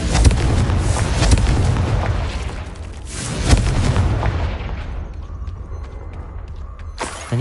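A fiery Confringo spell blasts in Hogwarts Legacy, a loud booming explosion with a dense rumbling burst that flares up again midway, then decays into a quieter crackling tail before a final sharp pop.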